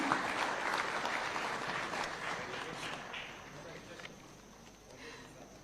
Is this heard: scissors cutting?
no